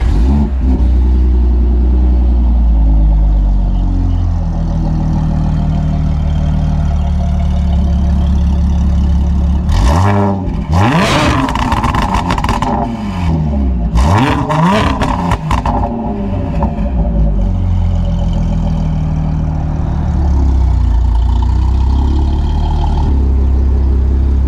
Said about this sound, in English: if you don't mind starting it so everybody can hear how insane this thing sounds